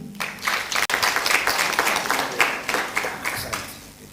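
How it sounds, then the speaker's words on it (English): Audience at an optics and lasers summer school closing ceremony claps for an absent colleague, a short burst of moderately loud applause lasting a few seconds. "clap for him"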